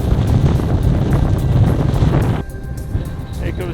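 Strong gusting wind buffets the microphone on Little Dun Fell along the Pennine Way, a loud continuous roar that eases slightly partway through, with voices faintly mixed in.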